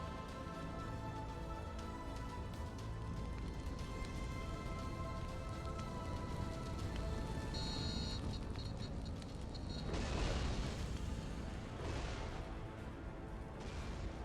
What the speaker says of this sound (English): Explosions rocking it hard.